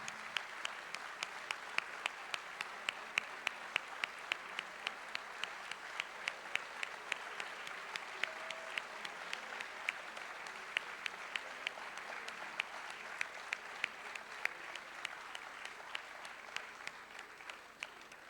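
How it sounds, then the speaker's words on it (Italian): Sustained, fairly distant applause from a seated audience at a formal regional event, many hands clapping steadily with sharper individual claps popping through for nearly twenty seconds. "Gigi Svaria, che accogliamo con un caloroso applauso."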